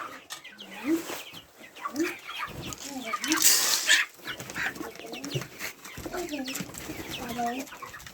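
Chickens cluck in short bursts nearby on a farm in the morning while people talk over them, with a brief rustling burst in the middle.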